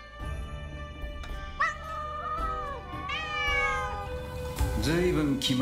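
A Ghostwire: Tokyo cat meows several times in a row, clear and close, with wavering pitch, over a steady background drone and no talk.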